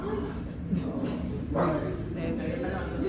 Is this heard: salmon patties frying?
no